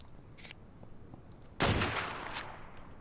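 Gunfire in a PvP match of ARK: Survival Evolved, with faint shots early on followed by a sudden loud burst of fire that trails off with a ringing tail.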